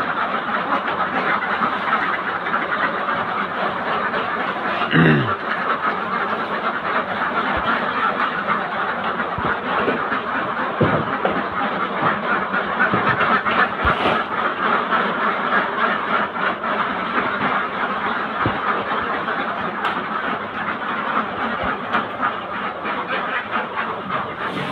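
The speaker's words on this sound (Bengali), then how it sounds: "সেই সকালে হাঁসের খাওয়ার ভিউ।" Farm ducks quacking while they eat their morning feed, a busy continuous chorus of many birds close by, with a faint low rumble in the background and no talking.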